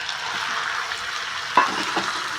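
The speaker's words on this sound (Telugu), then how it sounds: "ఈ చికెన్ బాగా ఫ్రై కావాలి ఆయిల్లో." Chicken frying in hot oil with onions and ginger garlic paste, a steady close sizzle with a couple of brief stirring clinks, no talk.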